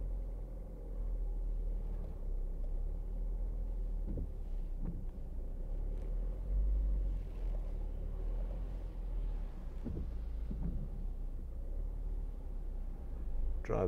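Low, steady engine and road rumble inside a 2014 Ford Focus 1.6 Titanium as it reverses slowly into a parking space using automatic park assist. The hum stays quiet and constant, with a few faint bumps and no talk.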